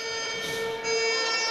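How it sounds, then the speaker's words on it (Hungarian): A loud electronic horn sounds at a youth basketball game, one sustained buzzing tone that holds for over a second in a gym setting, with no voices over it. "És szól a kürt."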